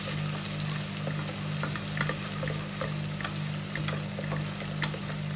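Onions frying toward brown in a karahi, a dense continuous sizzle close by with small crackles and stirring scrapes over a constant low hum.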